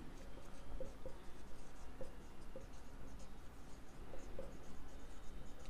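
A pen scratches across paper while a class 10 algebra financial planning problem is written out, a soft continuous scraping with faint irregular strokes over a steady hum.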